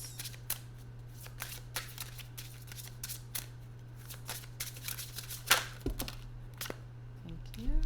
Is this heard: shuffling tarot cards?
yes